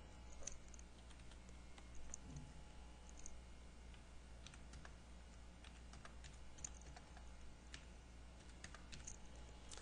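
Typing on a computer keyboard while entering data into an Excel spreadsheet, a steady stream of light quick key clicks, faint and close, with no talking.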